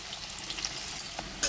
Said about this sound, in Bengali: এবারে প্রথমে আমি আলুগুলো ভেজে নেব।